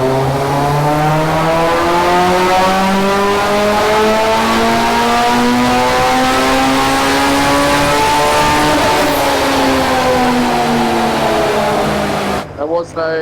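A classic Ford Sierra XR4i with a turbocharged Honda S2000 engine swap runs under load on a dyno, roaring loud and close as it revs steadily higher through one long sustained pull before cutting off abruptly at the end.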